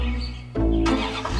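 A cartoon car engine cranks and catches, dropping briefly before surging into a loud, buzzing idle with rising revs, close and alone without voices.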